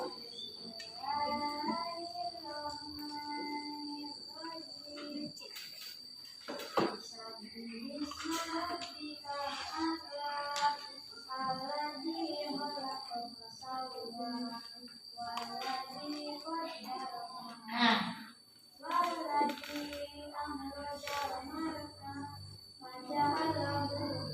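A classroom of students demonstrates a clapping routine by group, with rhythmic hand claps mixed into lively chanting voices and talk, and a steady high whine running underneath.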